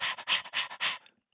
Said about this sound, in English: is happy dog panting.